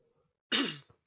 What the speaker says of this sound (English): Oh, here comes a big cough.